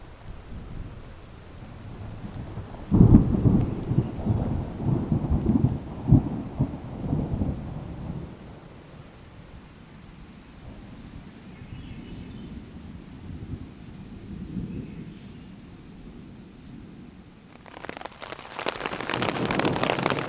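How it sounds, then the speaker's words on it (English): Heavy rain with rolling thunder at a lakeside campsite in Temagami, a big rumble early then fading into steady downpour, with a burst of harder rain near the end. "It's 4:30 a.m. and this rain is aggressive."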